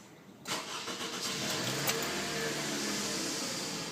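A 2003 Toyota Camry LE with 142,000 miles cranks and catches after a brief quiet start, then settles into a steady, close, somewhat rough idle with a broad hiss of engine noise.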